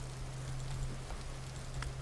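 Rain falling in the survival video game Vintage Story, a soft continuous hiss over a steady low hum, faint and even with no talking.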